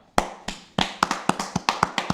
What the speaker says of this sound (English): Let's give Jason a round of applause right now.